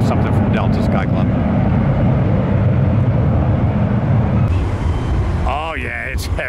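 A Korean Air Boeing 777 heavy jet roars loudly and continuously at an airport, a broad rushing drone that eases slightly near the end as a voice briefly speaks.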